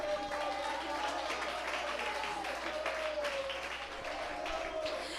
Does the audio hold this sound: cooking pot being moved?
no